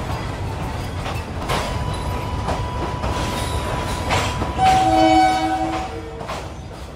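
A train runs on the railway to Cusco, Peru, rumbling steadily nearby, with a shrill, sustained tone swelling near the end, like a horn or wheel squeal, and no voices.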